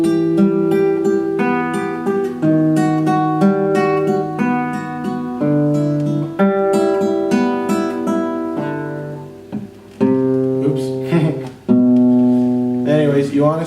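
A fingerstyle guitar plays a Malagueña exercise slowly and clearly, with each note picked twice in a steady repeated pattern of plucked tones and short pauses, close and alone without talking.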